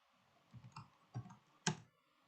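Keys clicked on a computer keyboard while entering a command in Windows Command Prompt: a few short, close taps in small clusters, the last one sharper and louder, with no talking.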